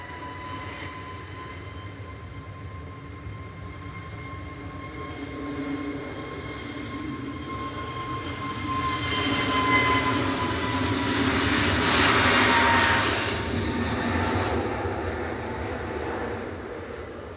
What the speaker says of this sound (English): Flight 1182 back to Istanbul, TCRFH A321 Neo.